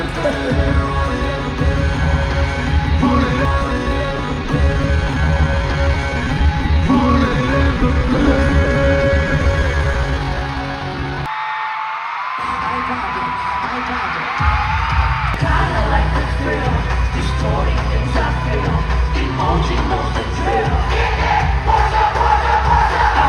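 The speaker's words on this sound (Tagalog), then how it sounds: "Hindi ka pa nakaka-recover sa sigawan ng crowd" Concert crowd roaring and cheering loudly and continuously, with a short dip midway before the dense shouting and whoops return.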